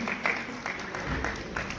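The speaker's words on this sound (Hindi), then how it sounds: "जोरदार तालियों के साथ हम धन्यवाद करते हैं सिद्धार्थ चावला जी" Applause from an audience at an award ceremony honouring donors of a Rotary blood bank charitable trust in Faridabad, a short burst of scattered clapping with a murmuring crowd behind it.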